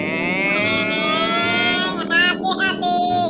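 In a video-game death race, an expensive, fast motorcycle's engine races with a rising, buzzing whine that climbs in pitch and then wavers through gear changes, loud and close.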